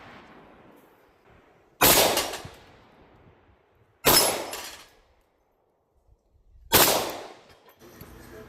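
Three loud, sharp shots from a Kimber Rapide Scorpius 10mm pistol, fired slowly at about two-second intervals, each with a long fading echo and quiet gaps between.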